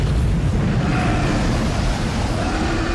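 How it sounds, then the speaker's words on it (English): A huge asteroid strikes the Earth: a dense, continuous rumbling roar of explosion, loud and steady, heavy in the low end, with no distinct onset or decay. "the Earth was struck by an enormous asteroid"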